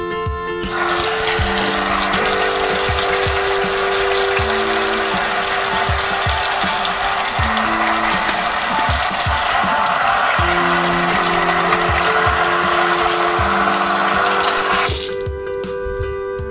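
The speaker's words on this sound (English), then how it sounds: "I'm just gonna give my hands a quick little wash here" Hands are rinsed under a running kitchen tap, a loud, steady close rush of water lasting about fourteen seconds before cutting off, with a rhythmic clicking, tonal background pattern beneath it.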